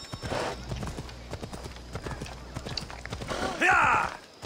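Rapid hoofbeats of a horse in Assassin's Creed Odyssey clatter in a steady galloping rhythm over a noisy game soundscape, with a brief burst of louder sound near the end.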